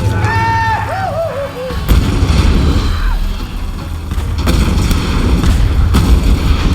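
Cannons boom in a Lara Croft video game, heavy repeated blasts over a constant low rumble, with a few short tonal game sounds near the start.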